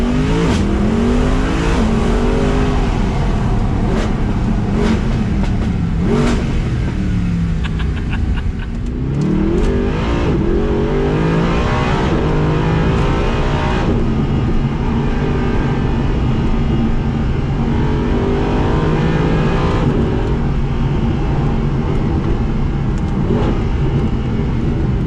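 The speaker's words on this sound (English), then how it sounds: "introduce you to this V8 with the windows down" A Mercedes-Benz SLS AMG Black Series 6.2-litre V8 revs hard and loud, with the engine rising and falling through repeated accelerations heard from inside with the windows down, a continuous aggressive roar throughout.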